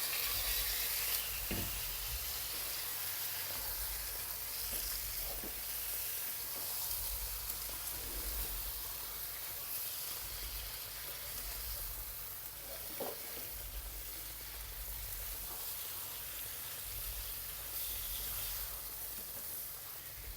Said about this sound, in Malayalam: ഈ എടുത്ത് വെച്ചേക്കുന്ന ചിക്കനില്ലേ അതിങ്ങോട്ടിട്ട് കൊടുക്കാം